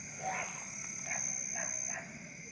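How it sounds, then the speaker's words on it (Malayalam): Faint, repeated frog croaks sound at a distance over a constant high insect-like whine and background hiss, outside an abandoned building at night. "തവളയുടെ സൗണ്ടാണോ കേൾക്കുന്നത്?"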